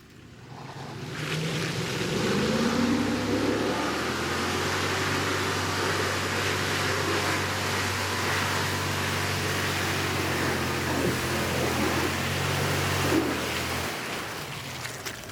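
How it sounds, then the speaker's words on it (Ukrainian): A Lexus GX 470's 270-horsepower V8 holds near the red line in high gear off-road, a loud sustained droning roar with wind and rushing noise, steady for most of the stretch before dropping away at the end. "Це висока передача, 270 кінських сил японського V8 і максимальні оберти в червоній зоні"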